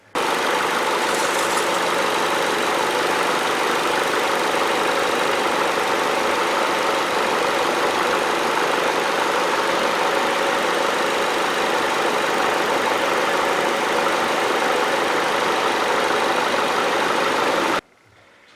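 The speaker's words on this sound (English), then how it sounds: "turn the engine on, check the fluid" A car engine idles steadily with a constant low hum and rumble, close by, cutting off abruptly at the end.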